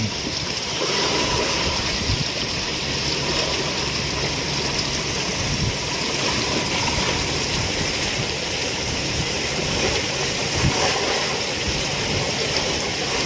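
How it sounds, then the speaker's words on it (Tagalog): Steady roar of rough sea and strong typhoon wind at Surigao, Philippines, a constant broadband wash with surging waves, loud and unbroken throughout, no voices. "Puro alon lang dito."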